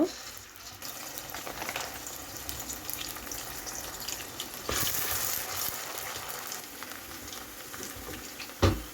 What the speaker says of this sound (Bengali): এখন পেঁয়াজটাকে ভালো করে একটু ভেজে নিব